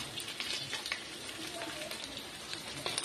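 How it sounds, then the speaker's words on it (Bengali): Ground spice paste goes into potatoes already fried red in hot oil, setting off a busy, crackling sizzle with scattered sharp pops and spits over a steady frying hiss. "আলুটা আমার লাল করে ভাজা হয়ে গেছে, এবার আমি বাটা মশলাগুলো দিয়ে দেব"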